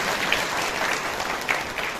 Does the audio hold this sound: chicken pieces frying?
no